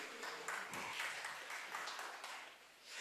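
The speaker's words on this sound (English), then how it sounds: "Give him a round of applause." Audience applause during a talk on skepticism, a quiet, diffuse patter of clapping heard from a distance, fading slightly toward the end.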